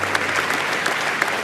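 Applause rings out for veterans at a Normandy D-Day ceremony attended by presidents and princes: a brief, dense burst of clapping from a crowd, loud and close.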